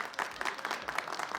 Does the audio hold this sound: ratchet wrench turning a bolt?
no